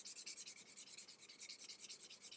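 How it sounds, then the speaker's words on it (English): Quiet, rhythmic rubbing strokes of sandpaper against leather, repeating evenly back and forth in a close, steady scratchy pattern. "So you just keep sanding until you achieve the same color"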